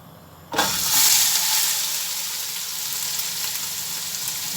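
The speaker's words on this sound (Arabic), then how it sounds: "هبتدي انزل البصل ومش عايزينه يتحمر" Onions being fried in a pan for a home-cooked meat dish, starting with a sudden loud sizzle as they hit the hot oil, then a steady close hiss and crackle.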